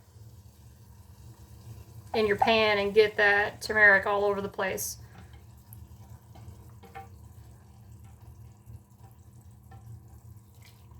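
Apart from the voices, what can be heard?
water poured into a bowl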